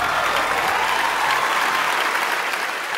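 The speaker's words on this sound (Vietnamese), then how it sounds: "xin một tràng pháo tay nồng nhiệt cho chị Hồng Ngọc thưa quý vị." A Vietnamese television studio audience breaks into warm, sustained applause, a steady, close patter of many hands clapping together that eases slightly near the end.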